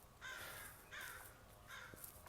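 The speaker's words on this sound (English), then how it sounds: "Can you hear my crows? They're so loud." Three loud, harsh crow caws in a row, evenly spaced about a second apart, close by with no talking.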